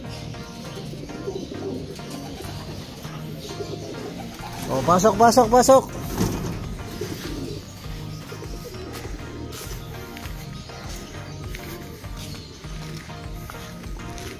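Racing pigeons coo in a short burst near a loft, with someone talking over steady background noise before and after.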